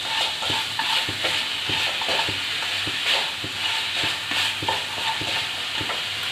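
Coconut and jaggery are stirred in a hot pan with steady rhythmic scraping strokes about twice a second, over a constant soft sizzle, close and fairly loud with no talking.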